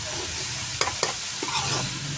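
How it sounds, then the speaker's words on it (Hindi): Radish pods and potatoes fry in spice masala in a pan, giving a constant sizzle with a few sharp scrapes and taps from a stirring spoon. "अब देखिए हम इसी मसाले में इनको अच्छे तरीके से भून लेंगे"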